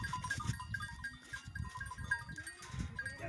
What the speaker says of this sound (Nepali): अब टक्क बाख्रा पुलबाट तार्ने योजना गरेको छ।